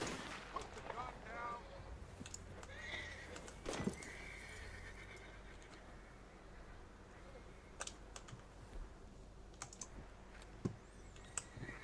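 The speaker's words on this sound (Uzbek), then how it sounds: "Otib tashlayman hozir bor, mana shu otlarni bor." Horses neigh and whinny in the video game Red Dead Redemption 2, with several harmonic calls early on, over a busy in-game ambience of clicks and scattered thumps.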